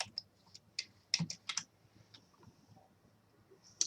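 Keys tap on a computer keyboard, including tab presses, in scattered close clicks with short pauses between small bursts, quiet and with no talk.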